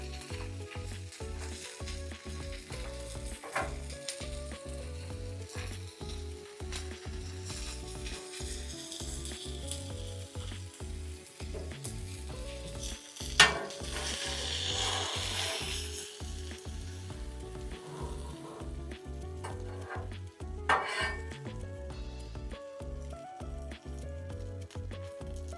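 Waffle batter sizzles steadily in a hot mini waffle maker, a continuous close crackle and hiss with a few brief louder pops, under background music.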